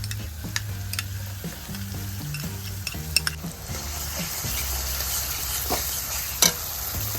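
A spice paste for a spicy lentil-fritter curry fries in a pan with a continuous close sizzle, stirred with scraping strokes and occasional light metallic clinks of utensil against pan.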